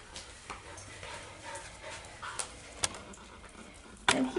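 Several dogs whimper softly and pant nearby, with faint intermittent whines and a sharper yip near the end, all fairly quiet.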